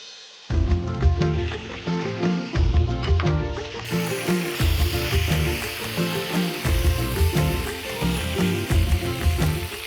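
Taro pieces fry in oil in a pan, giving a bright continuous sizzle that starts abruptly and swells louder partway through, laid over a strong low tonal backdrop.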